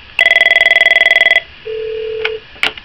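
An Avaya IP Office 1416 desk phone rings with a single loud burst of rapid electronic trilling, followed by a steady tone and a couple of faint clicks, with no voices.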